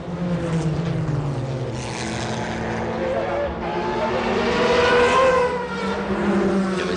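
A Porsche 911 GT1 is heard onboard during the 1996 Le Mans race, its engine note rising and falling through gear changes, loud and close, with a commentator speaking over it.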